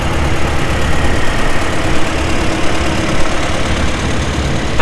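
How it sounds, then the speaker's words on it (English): A Farmall 230 utility tractor engine idles at an outdoor threshers' reunion, a loud, steady low rumble with an even knocking pulse running throughout and no voices. "and a 230 Farmall utility tractor."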